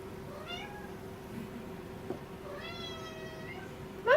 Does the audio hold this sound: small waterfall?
no